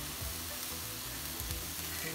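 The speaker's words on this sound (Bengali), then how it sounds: "পিটটা আমি অ্যাবাউট 4 to 5 মিনিট কুক করার পরে এগুলা একটু উল্টায় দিতে থাকবো" Chicken burger patties sizzle steadily in a pan over medium-high heat, a dense, continuous frying hiss close up with no talking.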